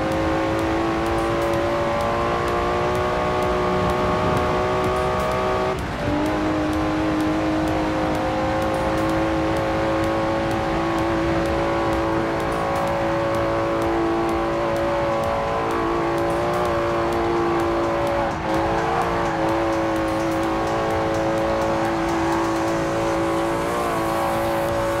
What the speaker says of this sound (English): Listen to that. Never heard a Datsun sound like that